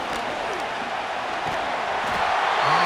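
A stadium crowd in a Madden 25 American football game, Chicago Bears against Houston Texans, gives a loud, continuous roar that builds toward the end, with a few thuds and shouts mixed in.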